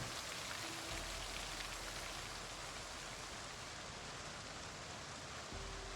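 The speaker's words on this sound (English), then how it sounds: "Helps that it's raining." Steady rain in the video game Project Zomboid forms a dense, constant hiss of drops across the whole stretch, with a faint low hum starting and stopping beneath it.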